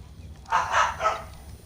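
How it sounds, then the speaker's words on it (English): A small dog named Daisy barks in the background, two or three quick yapping barks at a distance, fairly faint over a low steady hum. "And if you heard a little barking in the background, that would be my little Daisy getting angry"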